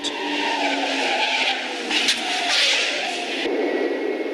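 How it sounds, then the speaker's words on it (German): A 1970 Renault 12 driven at 100 km/h through a crosswind machine, giving a loud, sustained rushing roar of wind and tyre noise that swells and fades slightly over several seconds. "Der Wagen wird mit genau 100 Kilometern durch diese Windschleuse gesteuert."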